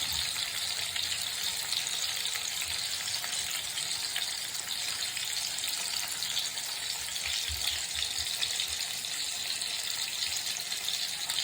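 Avoli fish frying in oil in a pan, a dense, continuous, loud crackling sizzle that holds steady and close throughout, with no speech.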